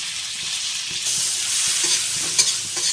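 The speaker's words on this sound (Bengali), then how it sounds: "আমি এই তেলের মধ্যে পেঁয়াজ দিয়ে দিলাম" Onions frying in oil in a pan, a steady bright sizzle with soft stirring scrapes that grows slightly louder midway and continues without talk.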